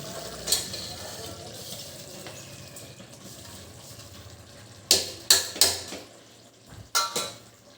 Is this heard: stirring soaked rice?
yes